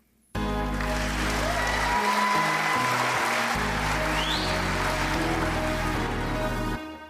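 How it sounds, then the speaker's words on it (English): Steady, close applause greets a guest arriving on a Christian school radio ministry show, a continuous dense clapping wash that starts abruptly and holds for several seconds with a low musical bed underneath. "Mac Daddy did a pretty good job of applauding for us"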